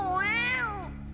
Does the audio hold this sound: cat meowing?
yes